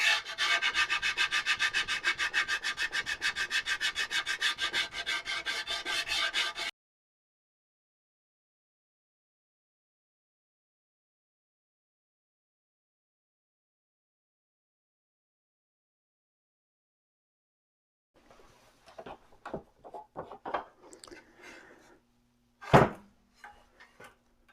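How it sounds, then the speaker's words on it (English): Wood is hand sanded with 120 grit sandpaper in quick, rhythmic back-and-forth strokes for several seconds, then a long silence, followed by scattered faint clicks, taps and one sharp knock. "we'll spend as much time with 120 grit as we did with 80"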